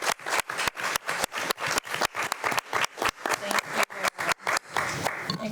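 Applause at a school board of trustees meeting: a few people clap in a quick, uneven rhythm of sharp, distinct claps close by, thinning and fading out near the end.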